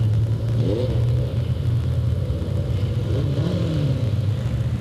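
Sportsman division race cars roar through a heat race at Delta Speedway in 1998, a steady, loud engine rumble with rising and falling revs as several cars pass, no voices.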